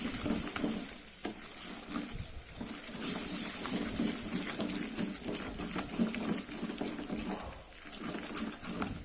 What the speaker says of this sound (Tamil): ஸ்டவ் ஆஃப் பண்ணிட்டு இப்போ நம்ம மத்து வச்சு கடையலாம்